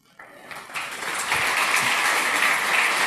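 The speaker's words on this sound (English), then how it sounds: "Give him applause" Audience applause at a hacker congress talk on solar-powering geek gear, starting sparse and quickly swelling into loud, sustained clapping from a large crowd.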